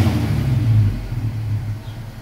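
A truck engine with a blown transmission revs briefly with a deep, loud rumble, then drops back and settles into a steadier low idle, close to the listener.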